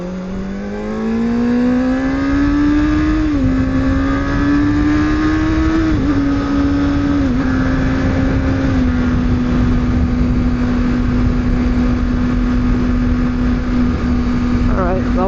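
A car engine climbs in pitch while accelerating up a freeway on-ramp, then settles into a steady cruising drone once at speed, loud and continuous throughout. Someone talks over it.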